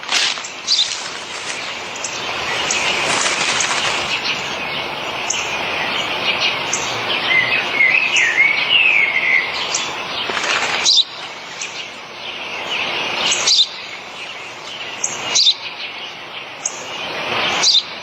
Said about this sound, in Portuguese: Eu já disse, pai. É um pardal.